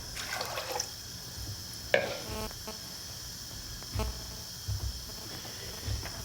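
Clean water poured into a pan of washed peas set on a gas hob for pea pudding, coming as a few short splashy bursts and trickles over a steady background hiss, fairly close and moderately quiet.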